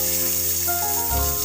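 Bay leaf dropped into hot oil in a pan, a steady crackling sizzle that continues throughout, with a brief low bump near the end, close and moderately loud.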